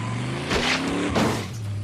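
A car rams into another car in a tense television crime drama scene, with engine roar, tire noise and two heavy bursts of impact and scraping over a low music bed, loud and close.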